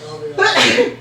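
One sharp, loud sneeze from someone close by during a tabletop role-playing game session, with a brief spoken word just before it.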